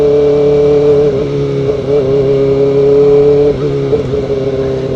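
A Kawasaki ZX4RR motorcycle accelerates hard, its loud, close engine droning steadily with brief dips as it shifts gears, and no voices over it.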